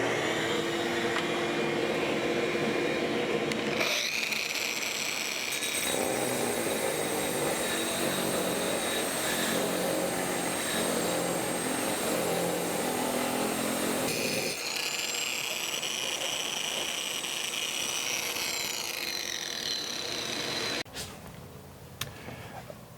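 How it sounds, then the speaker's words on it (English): Diamond core bit grinds through hard porcelain tile in a continuous loud, steady whir, with two brief pauses in the drilling and a few clattering knocks near the end. "That lets the core bit really work down into this porcelain material that's really hard."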